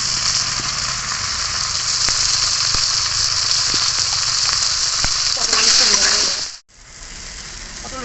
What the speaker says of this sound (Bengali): পটলটা ভেজে নেব। এই তেলেই দিয়ে দিলাম পটল।